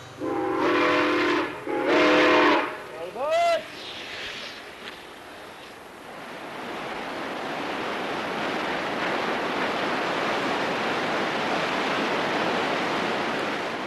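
A steam train in the Animas River Canyon sounds several long whistle blasts, some bending in pitch, followed by a steady broad rushing roar of the train and river that builds and holds.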